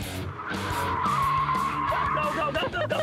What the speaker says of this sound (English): I did spin the car out